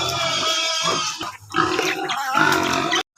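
Noisy backyard pigs kept as pets grunt and squeal loudly and close by in overlapping bursts, with a few short pauses and an abrupt stop at the end.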